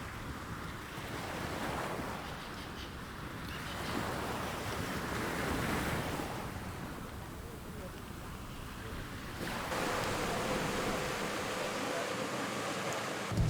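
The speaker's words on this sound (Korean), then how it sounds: "시원한 바닷바람을 맞으며 바다로 나간다." Sea waves and a steady sea breeze out on the water at Walvis Bay, Namibia, heard from a boat heading out to sea, with continuous broadband wash and wind buffeting the microphone throughout.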